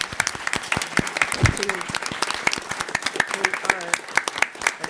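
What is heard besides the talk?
audience applause at conference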